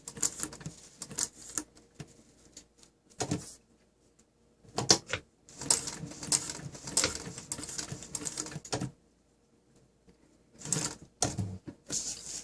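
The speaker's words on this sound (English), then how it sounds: "Now my motor is actually on high speed right now. It's maxed right out." A Chandler 406 RB1 sewing machine with its motor maxed at high speed through a belt reduction runs in short bursts of rapid needle clatter broken by quiet pauses, fairly close and with no talk.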